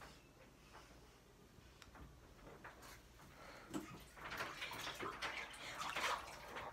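Water sloshes and splashes in an ice bath as a person lowers into it, the churning growing louder and busier toward the end with faint voices in the background.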